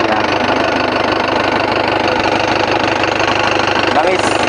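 An Isuzu 4JB1 diesel engine with a broken turbo runs away, a loud, steady, harsh high-revving roar with a continuous rattle throughout, while a person talks over it.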